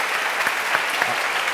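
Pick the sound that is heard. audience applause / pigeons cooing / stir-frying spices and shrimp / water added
audience applause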